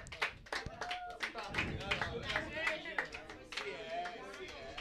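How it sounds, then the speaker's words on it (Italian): Scattered hand claps ring out at Inside club as the crowd applauds Jack and Jessica, irregular and moderately close, mixed with voices talking over them. "Un applauso a Jack e a Jessica."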